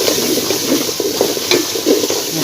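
Masala for chicken korma roasting in a pan, a dense steady sizzle with rhythmic spoon strokes scraping through the mixture every fraction of a second, loud and close.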